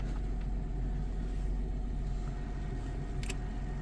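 A 2000 Chrysler Grand Voyager SE, off the road for years, idles steadily with a low, even engine rumble that holds constant from start to finish, with no voices over it.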